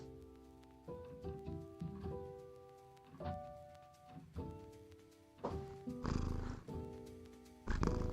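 House cat purring loudly, close-up, its rough breathing rhythm rising and falling in cycles, with a few soft thumps and rustles near the end.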